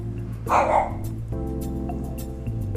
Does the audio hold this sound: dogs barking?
yes